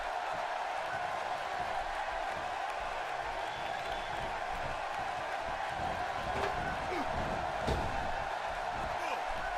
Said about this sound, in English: the crowd just keeps cheering